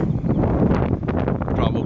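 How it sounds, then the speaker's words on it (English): Strong wind buffets an outdoor microphone on a hot day, a steady broadband roar with gusty swells throughout, and a voice speaks over it. "It's real windy."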